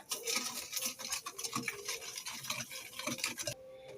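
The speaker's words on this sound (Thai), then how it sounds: "ผสมจนน้ำตาละลายเลยนะคะ ขั้นตอนนี้ให้ใช้เป็นตะก้อมือนะคะ" A hand whisk beats sugar and egg for cookies in a bowl with quick, scratchy rhythmic strokes up close, then stops abruptly near the end.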